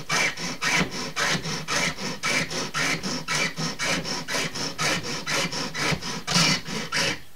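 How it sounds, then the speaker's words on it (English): A bone fish hook held in pliers is being filed in rapid even strokes, a dry close rasp repeating about three times a second with no talk. "you can proceed with your filing"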